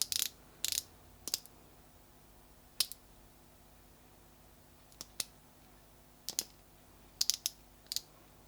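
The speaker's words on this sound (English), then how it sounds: "you twist it and the product comes out the top" Twisting mechanism of an MCOBEAUTY concealer tube with a foam tip applicator, giving sparse, faint dry clicks and ratchet-like snaps in short bursts, close up over a quiet room.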